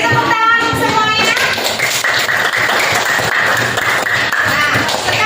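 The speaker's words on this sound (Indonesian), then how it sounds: "Beri tepuk tangan untuk semuanya" Children in a classroom clap their hands together in a dense, sustained burst of applause that fills the whole moment, close and loud, with a few voices mixed in.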